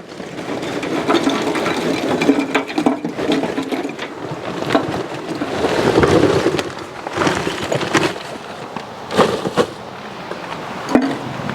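Charcoal clatters into the fuel hopper of an Oklahoma Joe Tahoma 900 auto-feed charcoal smoker, with irregular rattling bursts and knocks of lumps tumbling in, close and fairly loud, with no talking.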